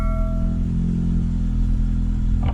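A Ford Focus RS with an exhaust valve bypass plug idles with a loud, steady low rumble and clattery engine harmonics, close by and alone.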